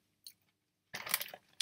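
Crunchy pork crackle snacks chewed close up, a brief crisp bite followed after a pause by a dense burst of loud crackling crunches lasting about half a second, then a final sharp crunch.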